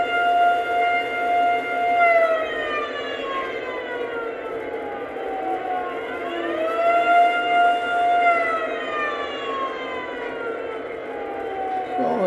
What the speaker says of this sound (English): one of the options is this air raid siren